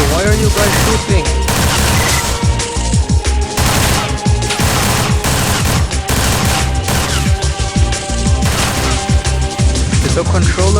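Dense, continuous video-game gunfire from a zombie game, with rapid automatic bursts, booms and crashes filling the whole stretch at high volume, while a voice talks over the shooting.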